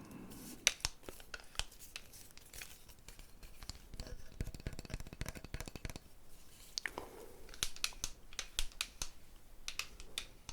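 Scissors snip through hair during an ASMR haircut, a series of close, crisp cutting clicks in irregular bursts against a soft, quiet background.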